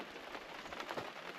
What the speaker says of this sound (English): It's starting to rain a wee bit.